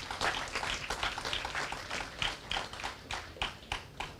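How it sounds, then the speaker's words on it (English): Guests at a Remembrance Day reunion reception give Reginald Cherubin a small round of applause: sparse, uneven claps from a modest group that rise and fall in loose bursts, with no talking over them. "Let's get a big round of applause for Reginald"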